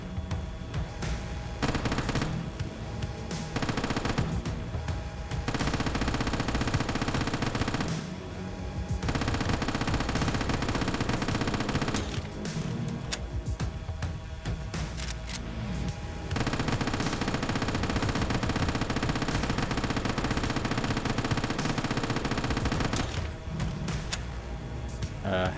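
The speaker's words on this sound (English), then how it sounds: "Okay, so we're just shooting then, I guess." Gunfire in the zombie defense game Quarantine Zone: loud, dense bursts of rapid automatic fire run almost continuously, broken by brief pauses.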